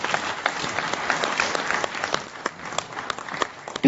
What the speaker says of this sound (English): Can we have the huge round of applause, please?